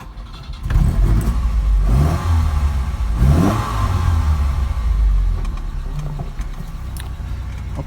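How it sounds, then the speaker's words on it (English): A 1975 Lancia Fulvia engine cranks and catches, then revs loudly a few times up close before settling into a rumbling idle. "I'll go ahead and start it up."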